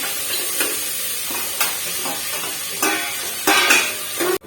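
Tempering spices for pulao sizzling in hot oil, a constant close hiss punctuated by several scraping stirs of a spoon against the pan, ending abruptly.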